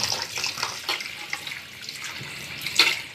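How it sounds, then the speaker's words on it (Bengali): Dough being squeezed and washed under running tap water in a kitchen, a steady close splashing stream with brief squelching bursts and no talk. "ডোটা আমি এভাবে চেপে চেপে কয়েকবার ধুয়ে নিব, যতক্ষণ পর্যন্ত না পরিষ্কার জল বের হয় ততক্ষণ পর্যন্ত আমি ডোটা এভাবে হালকা করে চেপে চেপে ধুয়ে নেব"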